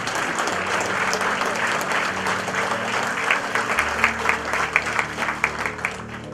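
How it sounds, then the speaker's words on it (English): An audience at an excellence awards function applauds the guest of honor, a steady, dense wash of clapping that stays loud throughout, with a low hum underneath. "give our guest of honor a big round of applause"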